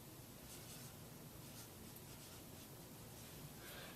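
Steady scratchy rubbing of a marker or chalk writing on a classroom board during a lesson on electric fields, a continuous close, quiet scraping texture without any talk.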